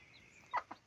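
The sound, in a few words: hen clucking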